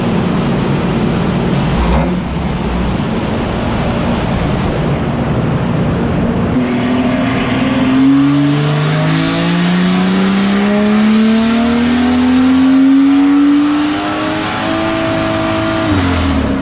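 A BMW M2 CS engine roars steadily on a dyno, its pitch climbing through a long sustained pull, very loud and close.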